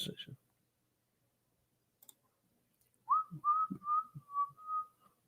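A person whistles a slow, wavering tune of several sustained notes after a brief burst of clicking, close and fairly quiet.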